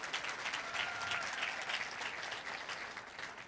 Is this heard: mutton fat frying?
no